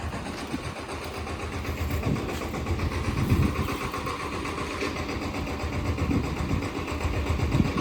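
A farm tractor engine runs continuously at an idle on sowing day, a constant low rumbling chug that is moderately close and steady, with slight swells in loudness.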